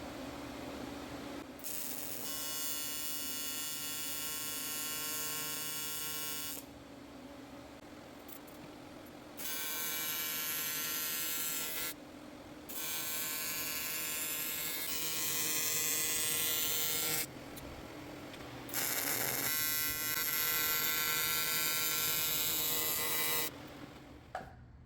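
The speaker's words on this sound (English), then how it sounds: "So that's the first time welding with the PowerTIG 400." An Everlast PowerTIG 400 TIG welder lays welds in several long bursts of steady bright buzzing and crackle, separated by short pauses under a low machine hum.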